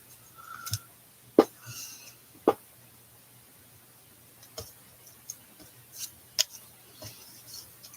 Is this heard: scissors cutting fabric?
yes